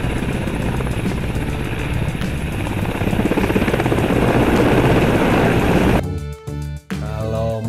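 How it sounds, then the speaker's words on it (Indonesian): Loud, steady helicopter rotor and engine drone with a fast chopping pulse runs for about six seconds, then cuts off abruptly into different tonal sounds. "Tuh, helikopter."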